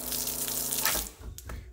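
Water gushes steadily from a tap fed by a pump mounted on the cargo barrier of a Toyota LandCruiser, a close continuous hiss that cuts off partway through, followed by a few sharp clunks.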